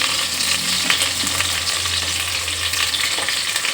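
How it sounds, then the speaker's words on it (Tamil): Curry leaves with onion and green chilies frying and being stirred in hot oil for biryani: a dense, fairly loud sizzle with a few faint utensil scrapes and no speech. "அப்படியே சேர்த்து கருவேப்பிலையும் போட்டுக்கிறோம்."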